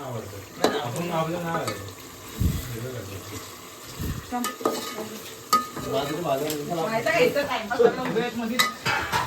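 Hot oil sizzles and crackles as spices hit the pan, with stirring scrapes and a voice talking intermittently over the frying.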